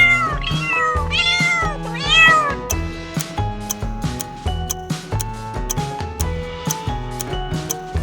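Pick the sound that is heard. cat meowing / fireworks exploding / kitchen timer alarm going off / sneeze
cat meowing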